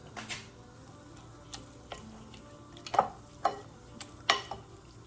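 Ceviche with plenty of juice being mixed in a bowl, giving a few soft wet stirring and clinking strokes, spaced out and fairly quiet, with no talk over them.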